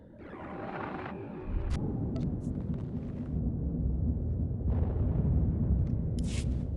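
Rumbling cannon fire and explosions in a Star Wars video game, a dense, continuous low boom and roar with bursts layered over it, fairly loud and without talk.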